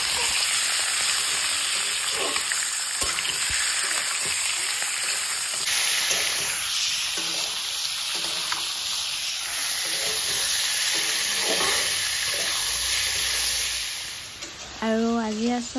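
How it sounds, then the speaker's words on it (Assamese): Pork meat fries in a pan with onions, a loud, close and continuous steamy hiss and sizzle throughout, with a short voice at the very end. "গাহৰি মাংসখিনিও ধুনীয়াকৈ ভাজি লওঁ"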